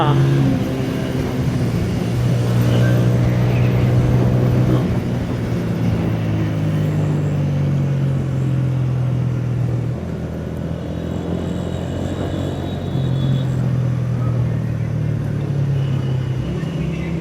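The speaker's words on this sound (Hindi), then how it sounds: "ट्रैफिक बहुत ज़्यादा है" Dense traffic rumbles nearby, engines droning and vehicles passing continuously, with voices and horn-like tones mixed into the steady roar.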